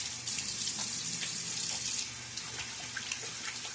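Water runs steadily from a tap into a sink during a wet shave with a Gillette Nacet blade in a Timeless 68 razor, a close, even splashing hiss with small irregular spatters.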